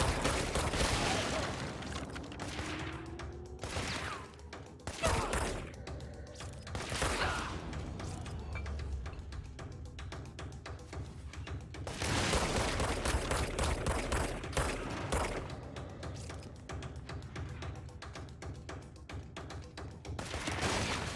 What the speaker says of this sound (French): Là, je tire dans le mur, hein.